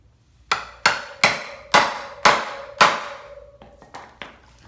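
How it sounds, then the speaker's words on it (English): A hammer drives a socket against a motorcycle wheel bearing seal, giving six evenly spaced ringing metallic taps with a sustained tonal ring, then a few quicker, lighter taps at the end, close up and without talk. "We'll tap this side of our seal just to make sure we flush."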